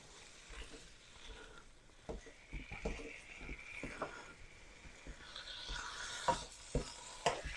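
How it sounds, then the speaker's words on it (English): Seasoned beef browns in a hot pan while a utensil scrapes and pushes it around, giving irregular knocks and scuffs over a soft sizzle, close and fairly quiet. "as it goes through and browns up on one side, we're going to go through, agitate the meat a little bit"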